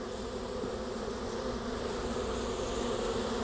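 Honey bees swarm around an open hive during a varroa mite sugar roll check, a dense, steady buzzing drone that fills the scene without pause and with no voices over it.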